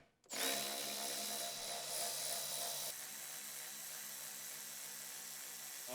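A power tool drives out small 10mm bolts on a Tesla Model 3 bumper, a loud steady whirring buzz that starts abruptly and runs continuously, easing slightly in pitch and level partway through.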